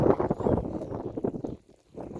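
Wind buffets the microphone in low, rumbling gusts outdoors at a vineyard, dropping away briefly near the end before rising again.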